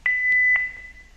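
A Philips DFM100 defibrillator sounds an alarm warning that its printer is out of paper, a single clear steady electronic tone lasting about half a second, close and moderately loud, with no talking.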